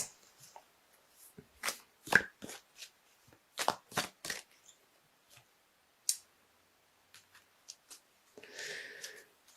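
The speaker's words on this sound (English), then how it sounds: "I'm going to pull you an extra little card from the Wild Kuan Yin Oracle deck by Alana Fairchild." Wild Kuan Yin Oracle cards being shuffled and pulled, crisp close riffles and flicks in irregular bursts with brief pauses, ending in a short papery rustle.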